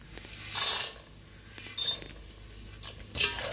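A spoon stirs roasted peanuts and chana into puffed-rice chivda in a pan, giving three or four short scraping, clinking bursts separated by quiet gaps, close and fairly soft.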